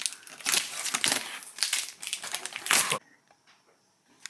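Crackly peeling and crinkling of material being pulled off a powder-coated part, several loud close rips over a few seconds that stop abruptly, leaving faint background noise.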